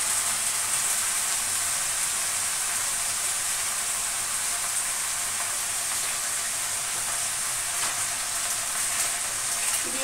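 Food frying in a pan with salt, turmeric and sugar being added while it is stirred, giving a dense, steady hiss and sizzle that stays constant and close throughout.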